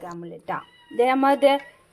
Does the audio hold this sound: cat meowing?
yes